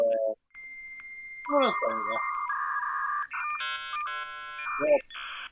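A dial-up modem connecting: dial tones followed by screeching, warbling handshake tones and static bursts, loud and continuous.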